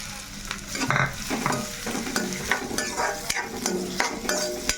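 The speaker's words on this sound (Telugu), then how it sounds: "ఇప్పుడైతే మనం ఈ నూనె వేడెక్కింది కాబట్టి వేడెక్కింది పర్వాలేదు ఉల్లిపాయ ముక్కలు అనేది వేసేసుకుందాం" Onion pieces frying in hot oil, a steady close sizzle with intermittent stirring scrapes and clinks of a utensil against the pan, running continuously throughout.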